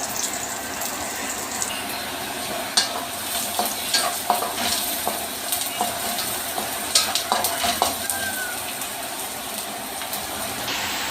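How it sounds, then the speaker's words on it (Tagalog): Fish fries in a pan with a small amount of oil, giving a steady close sizzle with scattered pops and light stirring and clinks throughout. "Prito sa isda."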